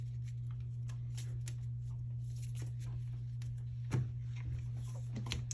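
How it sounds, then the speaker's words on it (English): A deck of cards for the Hero Realms deck-building game is shuffled by hand during solo play, a soft riffling rustle over a steady low electrical hum, with a brief louder tap near the end. "Shuffle this up."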